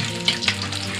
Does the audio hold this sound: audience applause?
no